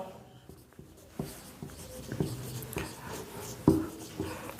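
Chalk or marker writing on a board in a physics classroom, with close scratchy strokes and light taps at an uneven rhythm.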